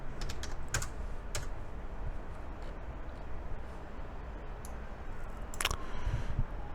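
Typing on a computer keyboard while working in a command-line tool, with scattered key clicks and a few louder bursts over steady background noise, no talking.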